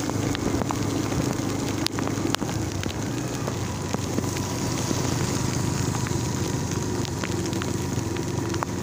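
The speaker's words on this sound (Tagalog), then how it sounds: "Malakas ng ulan" Heavy rain pours down in a rural province setting, a dense steady hiss of drops on surfaces with scattered sharper ticks, constant and fairly loud throughout with no talk.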